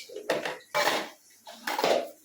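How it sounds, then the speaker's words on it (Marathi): A child bangs metal kitchen pots and pans, which clang and clatter in three separate bursts, close by, with short pauses between the rattling knocks. "टॉईस नको भांडे पाहिजेत खेळायला क्रिशो"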